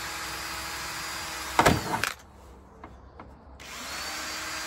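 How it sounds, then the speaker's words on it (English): A power drill bores holes into a plastic garden liner: a loud whining buzz cuts in briefly for about half a second, stops, and the steady outdoor background hum returns. "what I'm going to do first of all is just put some drill holes in this"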